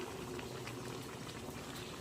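Liquid boils in a pot over a fire, a close, steady bubbling and seething that continues without a break.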